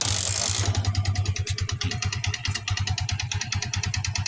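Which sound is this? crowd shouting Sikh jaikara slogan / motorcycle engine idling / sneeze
motorcycle engine idling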